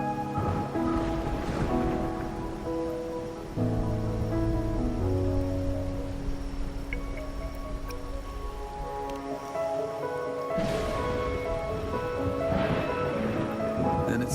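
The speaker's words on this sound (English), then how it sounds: "Or are you simply passing the time until the rain ends?" Steady rain falls in the video game Wuthering Waves, a constant soft hiss running under sustained musical tones and occasional brighter swells.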